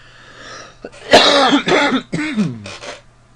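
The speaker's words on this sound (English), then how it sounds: "I apologize for the cough." A close, loud fit of coughing and throat clearing comes in a few rough bursts over a couple of seconds, with no talking.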